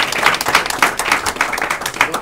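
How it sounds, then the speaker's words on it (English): An audience at a training center event applauds, a steady, dense wash of clapping with no clear gaps across the short stretch. "Can we give Mike another round of"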